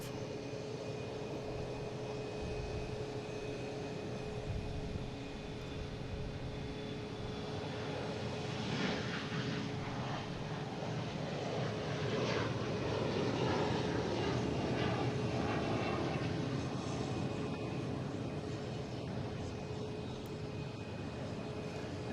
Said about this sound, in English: Here we go, an E175.